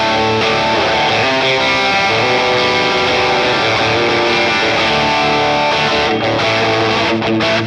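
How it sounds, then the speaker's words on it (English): Electric guitar played through a Boss Katana amp with a Tube Screamer boost, giving a loud, steady overdriven tone with sustained chords and notes throughout, a few brief gaps near the end. "I switch to a tube screamer."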